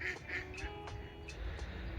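Several ducks quack nearby in a quick series of loud, nasal calls, spaced irregularly over a faint outdoor background.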